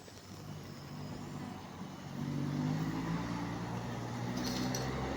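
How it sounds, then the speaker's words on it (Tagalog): A large septic-tank vacuum truck rumbles past nearby. Its low engine drone swells louder partway through and then holds steady, with a faint hiss near the end. "Laki ng truck."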